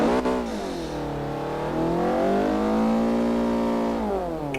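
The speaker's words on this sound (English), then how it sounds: "Just revving the car here." A C-class car's engine revs steadily in a racing video game, a sustained loud drone with rising and falling pitch and no talking over it.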